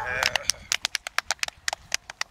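Hand claps during dog obedience training for a ten-month-old dog, a quick run of sharp, evenly spaced claps close by, with voices at the start.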